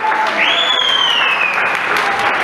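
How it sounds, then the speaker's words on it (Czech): A room of people breaks into dense, loud applause, sustained for a couple of seconds, with a voice or whistle-like tone rising over the clapping. "Tak a potlesk."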